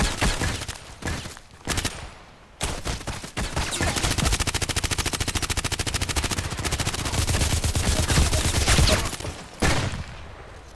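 Gunfire in the online shooter Contract Wars, with long rapid automatic bursts broken by single and short shots, loud and close, with brief gaps between volleys.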